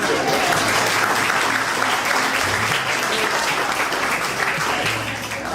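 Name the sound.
applause from audience in room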